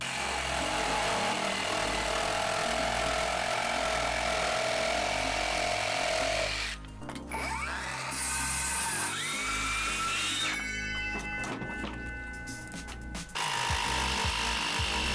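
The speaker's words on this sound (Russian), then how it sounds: "Смотрите, лобзика можно отпилить и сотый брус за один проход, а дисковой пилой нет." An AEG BST18X cordless jigsaw cutting through thick wooden beam, a loud, steady buzzing saw drone close by that briefly drops and changes pitch partway through before resuming.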